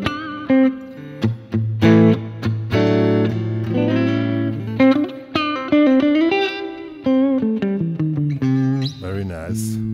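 Clean electric guitar on the neck pickup through an emulated Fender Deluxe tube amp with light reverb, playing sustained chords and single-note melodic lines with a warm, rounded tone, fairly loud and close, no other sounds.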